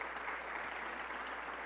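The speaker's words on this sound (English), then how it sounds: "Let's give her a round of applause" Steady applause from an audience at a school event for the Albany School of Humanities, sounding even and somewhat distant throughout with no speech over it.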